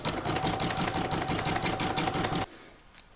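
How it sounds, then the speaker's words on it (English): Home embroidery machine stitches a moustache outline onto a lined Santa bag in the hoop, a steady rapid mechanical chatter of needle strokes running continuously, then stopping abruptly near the end, leaving faint room noise and a small click. "I'm now going to pop it back in my machine and stitch round number 9, which is the outline for the moustache."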